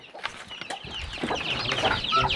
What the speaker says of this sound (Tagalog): Daghan ang manok mo.